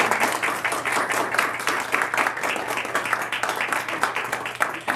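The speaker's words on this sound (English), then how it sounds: "A round of applause." A round of applause at a community commission meeting, many people clapping close and fairly loud in a busy, continuous patter, with a low steady hum underneath and no voices.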